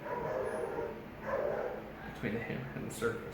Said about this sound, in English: Sorry about the dogs out there.